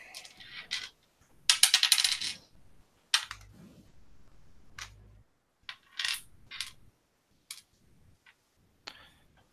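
Dice rattle and clatter onto a table in a tabletop role-playing game, several separate short rolls with quiet gaps between them, sharp and close.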